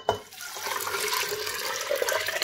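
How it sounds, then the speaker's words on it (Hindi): Water is poured into a cooking pot while making haleem, a steady close splashing rush that lasts throughout with no one talking. "2 लीटर पानी डाल दूंगी"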